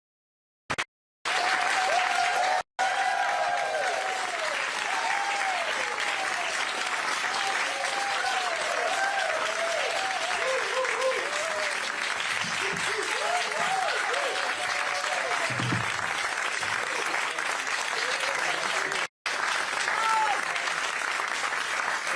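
A campaign event crowd in a classroom claps loudly and continuously, with cheers rising over the applause and brief cutouts.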